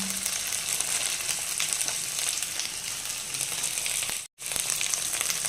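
Spice paste with ginger paste and Kashmiri chili powder frying in a pan: a loud, continuous close-up sizzle and crackle, briefly cut by a moment of silence near the end.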